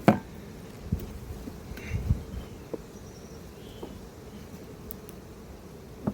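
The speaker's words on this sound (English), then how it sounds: "Lovely box of bees there." Honeybees hum in a hive box at an apiary, a soft, steady drone with faint buzzes from single bees passing close and a few light knocks.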